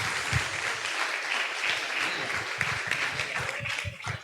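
Audience applause at a live LED Night comedy show, a steady wash of many hands clapping at moderate distance, holding evenly for a few seconds before tapering off.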